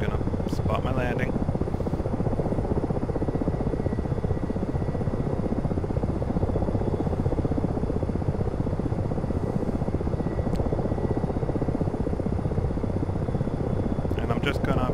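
Ka-50 coaxial helicopter in a flight simulator game, rotor thumping steadily as it approaches a hover, a loud, continuous pulsing drone with faint cockpit clicks at the start and end.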